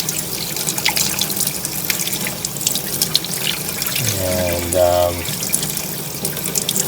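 A Rotax aircraft engine air filter is rinsed under a running tap, a steady broadband rush of water, with a brief louder splash midway as the flow hits the filter and a voice speaks briefly.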